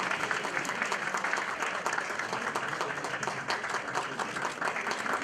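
An audience at the Altın Koza award ceremony applauds in a dense, continuous wash of clapping that holds steady throughout, loud and close.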